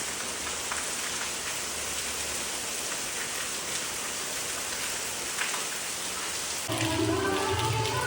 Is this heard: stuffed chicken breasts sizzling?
no